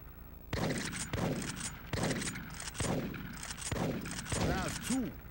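Rifle shots from the Big Buck Safari hunting game crack out about six times at roughly one-second intervals, each followed by a ringing decay, with some voice over the last ones.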